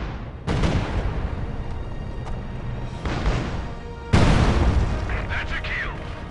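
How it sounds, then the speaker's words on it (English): Light artillery fire in Company of Heroes 2 on the Eastern Front, Reichstag mission: heavy booms and rumbling blasts, one sharp near burst standing out over a dense, continuous battle din. "Light artillery."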